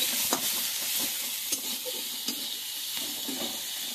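Onions and salt frying in a pan for a Bengali prawn (chingri) dish, a steady broadband sizzle with scattered scraping stir clicks, close and continuous.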